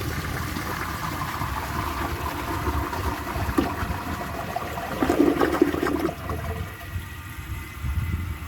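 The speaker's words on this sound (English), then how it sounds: "So let's give it a flush." A 1981 Eljer Emblem toilet flushes with a steady, close rush of water lasting several seconds, swelling briefly midway before settling into a quieter refill.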